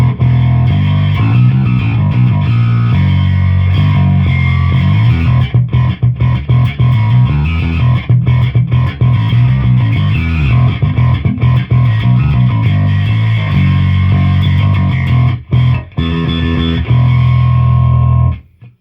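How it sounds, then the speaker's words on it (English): Electric guitar through a Tech 21 Dug Pinnick distortion pedal with the gain engaged plays loud chugging chords and riffs, heavily distorted, continuous and thick, with brief stops near the end. "When you engage this gain, it's crazy distortion. It's a lot more distortion."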